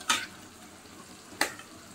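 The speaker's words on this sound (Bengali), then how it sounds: "আলুটা একটু ভাজা নেই" Potatoes fry in a pan under a faint, steady sizzle, with two brief, sharp stirring scrapes about a second apart.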